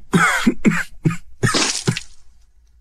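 Several harsh, wet coughs in quick succession from a character in a Chinese audio drama, close and loud, trailing off into a fading breathy gasp.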